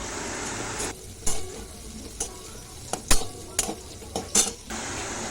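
Green chillies tossed into a hot frying pan for a potato and pointed gourd curry, with a steady low sizzle and several sharp clinks and scrapes of a spoon stirring against the pan.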